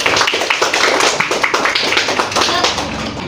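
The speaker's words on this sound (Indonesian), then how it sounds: "kita berikan tepuk tangan untuk presentasi hasil diskusi dari" A classroom fills with applause for a student group's presentation, many hands clapping in a dense, steady patter close by that carries on evenly, with no talk over it.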